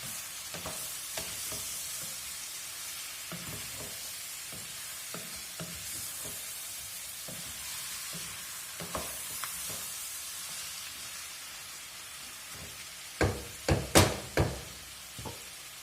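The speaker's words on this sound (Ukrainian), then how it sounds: "Цибулька тушиться з говядиною" Onion and beef stew in a pan for goulash with a faint, steady sizzle and occasional light utensil scrapes, ending in a few louder knocks against the pan, with no talking.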